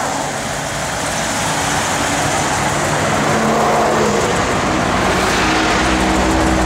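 A GM car engine runs close by with a steady, loud, unbroken rumble and no voices over it.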